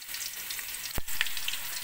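Potatoes for a meat curry fry in hot oil, a close, even hiss running throughout, broken once by a sharp burst of spatter.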